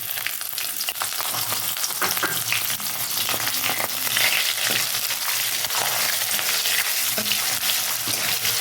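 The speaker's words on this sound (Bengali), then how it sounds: "পেঁয়াজটা দিয়ে একটু ভেজে ভেজে নেবো" Onion frying in hot oil with tempering spices for a fish-head and spinach dish makes a loud, continuous crackling sizzle with occasional stirring scrapes. No voices are heard.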